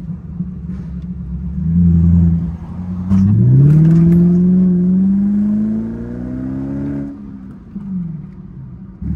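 A BMW M3 GTR engine in Need for Speed Most Wanted revs up and down on its own. The loud, rising and falling growl swells and holds for several seconds before easing off.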